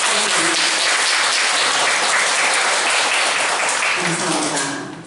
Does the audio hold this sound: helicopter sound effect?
no